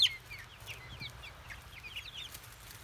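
Buff Brahma chicks in a brooder box peep and cluck in a steady, soft chorus of quick high chirps, close by, with no voices.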